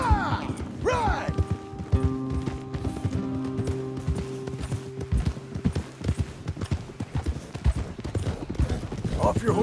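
Steady clip-clopping of several horses' hooves, close and continuous, with muffled voices and movement mixed in.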